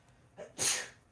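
A single sharp sneeze, close and fairly loud, preceded by a brief inhale, with no talking.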